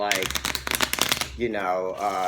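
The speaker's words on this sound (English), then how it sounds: "And I think that maybe I should shuffle them again." Tarot cards are shuffled in a fast burst of riffling snaps for about a second and a half, close by, before a voice begins talking.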